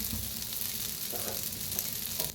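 A mixed dal dosa frying in oil on a hot pan gives a steady close sizzle, with a few soft scraping touches as it is turned.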